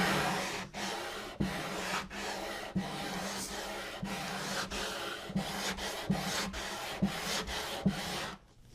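An acoustic guitar fretboard being radiused with 80-grit sandpaper gives a steady, close, loud rasping, back-and-forth strokes repeating about every second with short pauses between them and no talking.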